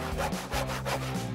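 A hand saw cuts through wood for a homemade trailer wheel, close and steady, with rhythmic back-and-forth rasping strokes repeating about every half second and no talk.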